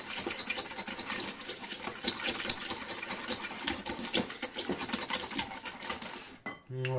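Apricot tiramisu cream with vanilla sugar is mixed in a bowl, giving a steady, faint buzzing whirr with light rattling clatter against the bowl. It cuts off abruptly just before the end.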